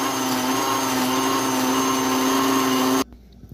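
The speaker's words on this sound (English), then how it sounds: "I'm going to blend, guys." A kitchen blender whirs steadily as it blends chopped ginger for a Nigerian zobo drink, a loud, even motor drone that holds for about three seconds and then cuts off abruptly.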